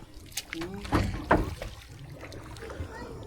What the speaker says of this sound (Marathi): अशा प्रकारे बोट चालवायला खूप एफर्ट्स लागतात बरं का आपण मॅन्युअली जी चालवतो